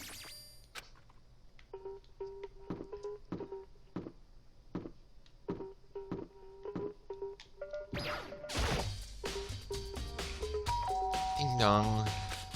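Doorbell chimes ring repeatedly in the Danganronpa: Trigger Happy Havoc video game, short bright dings spaced through a quiet stretch, followed by a louder burst of crashing game effects and a voice.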